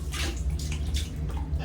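Tap water runs into a tub to fill a child's bath, a close, steady splashing stream with bursts of higher spatter and no talk over it.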